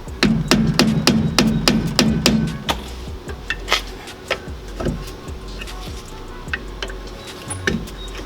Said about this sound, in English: So I'm gonna use the pry bar and the hammer the rest of the way.